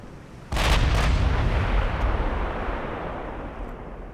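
Battlecruiser guns fire in the naval video game Ultimate Admiral: Dreadnoughts, a sudden loud booming salvo with a second blast close behind, then a long rumbling decay.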